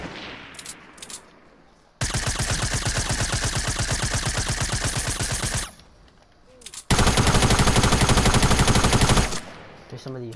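Sniper and automatic gunfire in a squad video game: two long, loud bursts of rapid shots close up, separated by brief gaps with faint voices.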